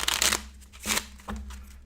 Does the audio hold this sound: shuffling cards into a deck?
yes